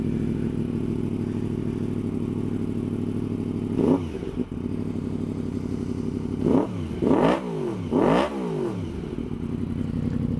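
A 2016 Yamaha R1 with an aftermarket exhaust and its dB killer removed idles steadily, then is revved in three sharp blips that rise and fall, with a deep, close, loud rumble.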